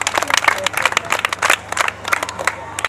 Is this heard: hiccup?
no